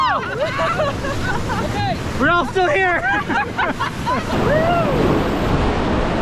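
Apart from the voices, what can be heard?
whitewater rapids on the Sarapiqui River while rafting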